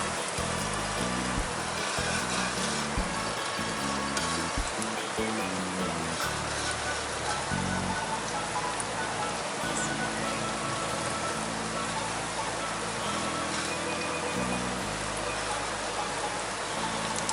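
Chicken nuggets sizzle and crackle in hot oil, a dense continuous frying noise throughout, with some faint background sounds mixed in.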